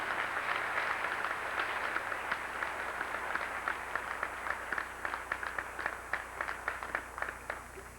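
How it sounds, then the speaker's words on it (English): Applause for parents and grandparents at a high school baccalaureate Mass, light scattered clapping that grows more distinct toward the end, fairly faint and somewhat distant, with no talking. "I'd like everybody to give an applause for the great parents and grandparents that we have here to support the school"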